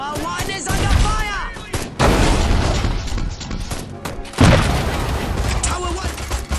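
Gunfire and artillery pounding defensive towers in Destroy All Humans!, repeated booming blasts and crackling shots layered with loud game chatter and shouting voices.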